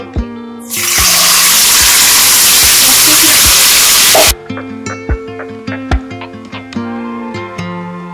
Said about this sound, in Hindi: ऑयल गर्म हो चुका है, अब हम इसके अंदर ऐड करते हैं चिकन।